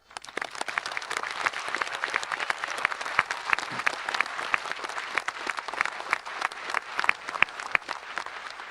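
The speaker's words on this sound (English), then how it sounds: "I'd like to propose a round of applause" An audience at a graduate commencement breaks into steady applause, many hands clapping at moderate distance with sharp individual claps poking through the sustained roar.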